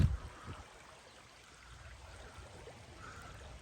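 A creek flows faintly and steadily outdoors, a soft continuous wash with a slightly louder low thump at the very start and no voices.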